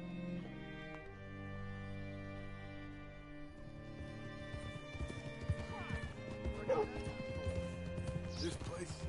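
Horse hooves clip-clop in Red Dead Redemption 2, a rhythmic clatter building in the second half alongside a horse's whinny, with game music and voices speaking over the top.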